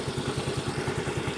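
A Yamaha Mio i125 scooter engine running after a tune-up, a steady, even, rapid putter idling close by with no talking over it.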